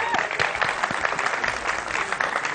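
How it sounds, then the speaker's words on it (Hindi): Studio audience applause on a Pakistani morning talk show, a burst of sharp individual claps with some voices mixed in, lasting a couple of seconds. "तो अहमद हाशमी के लिए भी ताली."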